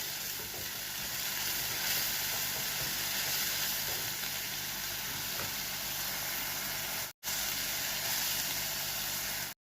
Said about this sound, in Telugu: ఉల్లిపాయలు కొంచెం వేగాలి.